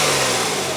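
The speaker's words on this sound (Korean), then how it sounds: "엔진 소리." A used Renault Samsung SM520V engine runs close up, giving a loud, steady, smooth hum with no other sounds over it.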